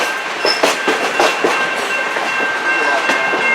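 A locomotive-hauled train rolls past on the railroad nearby, wheels clacking in an irregular rhythm over a steady rumble with a faint high squeal.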